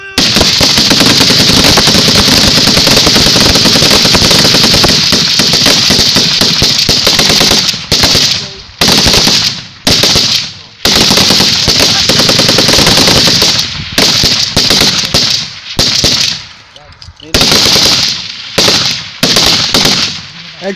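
Kenyan soldiers firing rifles rapidly during a training exercise, a dense, loud, sustained barrage of close gunfire that breaks into shorter bursts with brief gaps near the end.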